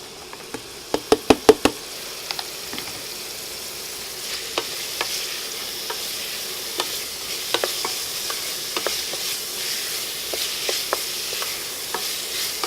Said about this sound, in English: we're going to drop our garlic. And then our onion, peppers, and tomato.